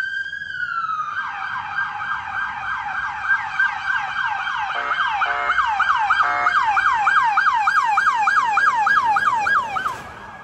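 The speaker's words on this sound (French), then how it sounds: "fais-moi un kiff avec les gyros sirènes et tout." Police siren on a Ford Explorer police car, rising into a fast, repeating wail-yelp pattern that grows louder and steadier before cutting off abruptly near the end, with no talk.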